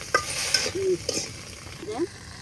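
Turmeric and spices, with fish, are stirred in a frying pan, giving scraping, clinking strokes of the spoon over a soft, steady sizzle.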